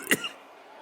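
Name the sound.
coughing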